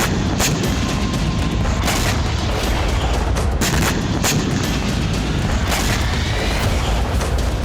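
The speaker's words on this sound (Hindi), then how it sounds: "बेलगोरोद में अस्पताल और स्कूलों पर भी बम रॉकेट बरसाए गए।" Bombs and rockets exploding over Belgorod, a steady loud rumble broken by repeated sharp booms and blasts, several of them close together, with no voices.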